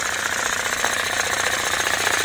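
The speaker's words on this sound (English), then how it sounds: "this is start up with the homemade compressor" A homemade compressor with an out-of-line, noisy belt starts up and runs with a loud, harsh, rapid chattering clatter, steady and close, with no voices.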